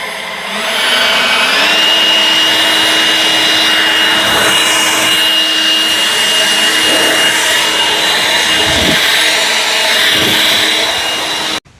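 An EGO battery-powered leaf blower runs at a low locked-trigger setting, giving a loud steady whine and rushing air close by, with shifting whooshes as it is moved, until it cuts off at the end.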